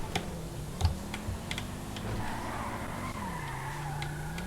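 In GTA V, a car's tires skid and screech through a U-turn drift, a sustained rubbery squeal over a rising and falling engine tone, with nearby keyboard key clicks tapping under it.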